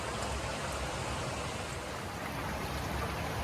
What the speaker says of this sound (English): Magic under the bridge, Squaw Valley Creek.